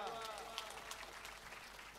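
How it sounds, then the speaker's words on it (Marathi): An audience claps together at a Shrimad Bhagwat Katha religious discourse. The applause is quiet and steady, a soft wash of many hands under a faint voice. "टाळी वाजवा."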